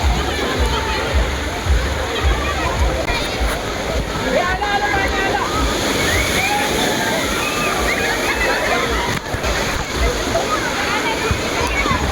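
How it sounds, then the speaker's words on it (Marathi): A large tipping bucket at a water park in Pune pours water down, a loud, continuous roar of falling and splashing water with crowd voices and shouting mixed in throughout. "ते बघा आता ते वरती भांडं भरलं ना सगळीकडे पाणी पडेल बघा"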